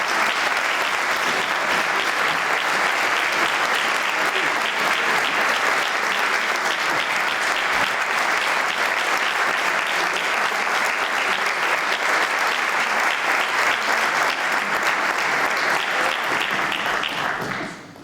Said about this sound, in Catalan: rebem en un fort aplaudiment al director de la Societat Musical Vila de Bocairent, Miguel Ángel Sarrió Nadal